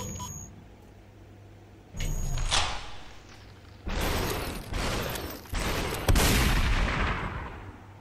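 Gunfire in the VR game SUPERHOT VR on Oculus Quest: a handful of sharp, loud shots land a second or two apart, each a broad burst with a short tail, over a low steady hum.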